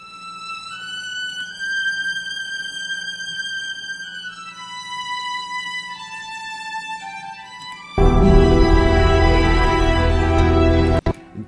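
An Embertone Friedlander solo violin sample library plays a sustained, legato passage of clear bowed notes. It swells into a louder, richer section near the end, then stops abruptly.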